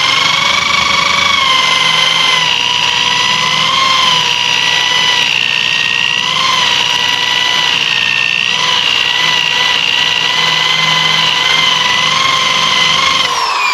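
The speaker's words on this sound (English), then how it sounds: "You want to be sure the rotation of the wheel is pushing into the decal" A drill spinning a 3M Stripe Off eraser wheel against a decal gives off a loud, continuous, high-pitched whine with a slight rising and falling pitch, steady for the whole stretch, with no talk.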